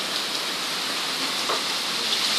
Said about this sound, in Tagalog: Akala ko ulan lang.